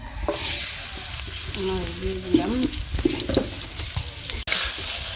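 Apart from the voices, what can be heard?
fish frying in oil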